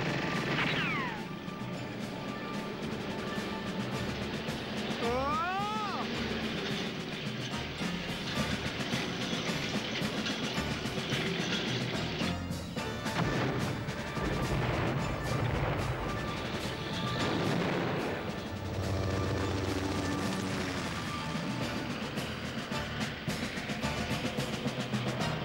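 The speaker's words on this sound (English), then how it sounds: "Machine guns?" Machine-gun fire rattles through a scene from an NBC television action pilot, a dense, loud barrage that runs almost the whole time, mixed with crashes and whistling, sweeping tones.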